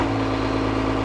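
A JCB Fastrac tractor idles close by, a steady low diesel rumble with an even, unbroken drone and no talk over it.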